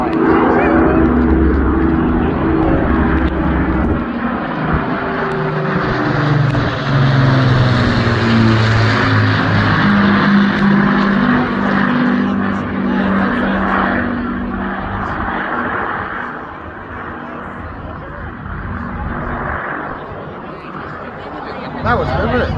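Propeller warbirds of the RAF Battle of Britain Memorial Flight pass at the RAF Cosford Airshow 2025. A loud, sustained engine drone swells, then its pitch slides downward as the aircraft fly past and fade slightly.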